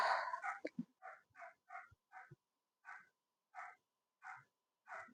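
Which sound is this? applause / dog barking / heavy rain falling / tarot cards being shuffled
dog barking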